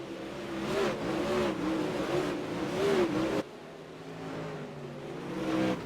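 Super Late Model race cars roaring around the dirt track at Charlotte, a loud sustained engine drone with rising and falling revs as cars pass, dropping off abruptly partway through before building again.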